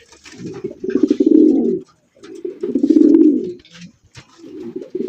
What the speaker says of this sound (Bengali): পাগলা একজোড়া রেসার কবুতর মাশাআল্লাহ, ডাকের দিক দিয়ে সেরা